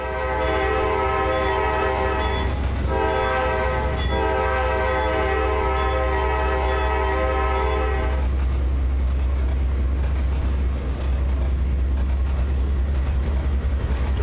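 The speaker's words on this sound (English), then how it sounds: "American train horns" A loud American train horn sounds in long blasts at a railroad crossing, with a short break before resuming, then cuts off and leaves the steady rumble of the moving train.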